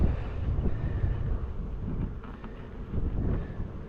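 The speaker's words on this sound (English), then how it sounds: "The wind's full on." Strong wind at a chilly apiary buffets the microphone in a steady, low, rumbling roar with gusts swelling and easing, loud and close, with no talk.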